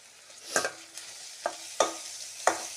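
Chili, ginger and garlic paste frying in a pan, with a soft sizzle broken by four or five sharp scraping stirs close by and no voices.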